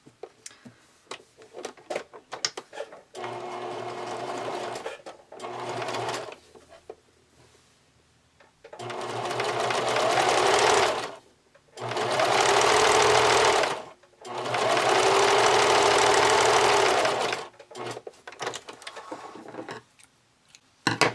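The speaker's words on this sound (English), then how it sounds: "you're going to zigzag stitch your elastic along the edge of your fabric" A sewing machine runs in several long, steady bursts of zigzag stitching elastic along a fabric edge, with short pauses and softer mechanical clicks and handling between runs.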